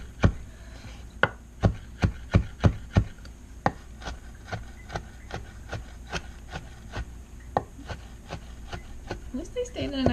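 A kitchen knife chops bacon into little bits on a cutting board, worked double-time with both hands, with a run of sharp, close knocks in quick bursts and steadier spaced strikes.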